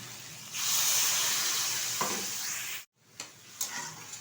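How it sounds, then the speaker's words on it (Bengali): Water poured into a pan of hot, well-fried spice masala for an okra and potato curry erupts into a loud, steamy sizzle. The hiss holds steady, then cuts off abruptly, followed by a few softer scraping stirs. "এখন দিয়ে দেবো পরিমাণ মতো জল।"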